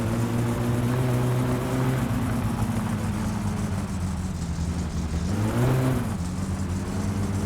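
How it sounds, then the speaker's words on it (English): A car engine in My Summer Car drones steadily with a slipping gearbox, its pitch sagging and rising as the revs flare without the car pulling, heard alone and close. "Oh, it's slipping. Tell me the gearbox isn't fucked."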